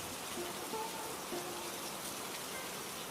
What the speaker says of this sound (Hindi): बाहर अब भी तेज बारिश हो रही थी।